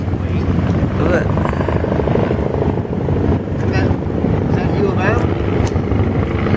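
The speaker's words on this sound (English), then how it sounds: "that's a state plane." A state plane flies overhead, heard from a boat out on the water: a steady, loud engine drone blends with wind and motor noise while people talk throughout.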